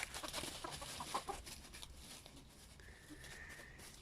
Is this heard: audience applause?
no